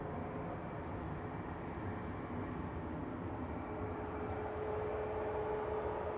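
An SAS Airbus A320neo jet departing Manchester Airport, a steady broad engine rumble with a thin high whine, heard from a distance.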